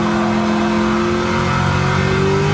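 The Red Devil Camaro engine in a racing video game roars loudly and steadily, revving up as it climbs through the gears, with no talk over it.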